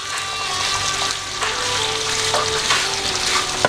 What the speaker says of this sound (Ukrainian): Зразу в догонку треба то все діло вимішувати, перемішувати.